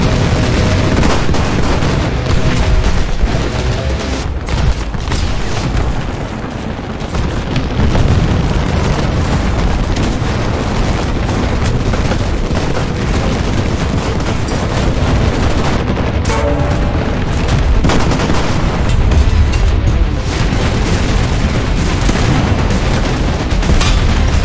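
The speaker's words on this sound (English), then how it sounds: "the first shot is taken from the sniper team, already getting a kill" Dense, continuous gunfire and explosions from sniper rifles and tanks in the War Thunder video game battle, with repeated loud booms and shots layered over a constant roar throughout.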